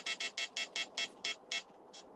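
A quick run of about ten short, high electronic beeps, faint and evenly spaced, with a slightly longer pause before the last one.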